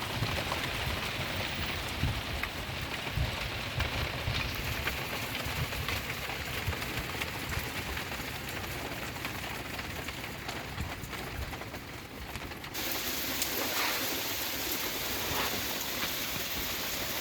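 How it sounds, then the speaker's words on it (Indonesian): Rain falls steadily over a traditional fish-pond farm, a dense, continuous hiss with scattered drops pattering on surfaces, lasting throughout with a faint low engine-like hum underneath and a slight shift in texture near the end. "Jadi saat ini hujannya sampai pagi ya."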